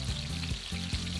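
Chicken broth, 200 ml, hits a hot pan with a loud, steady sizzle and bubbling, close up, with a few soft clinks.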